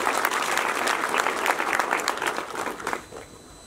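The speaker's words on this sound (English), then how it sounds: "Can you clap for yourself?" A large crowd of graduates at a polytechnic graduation ceremony applauds loudly, a dense, sustained roar of clapping that fades out near the end.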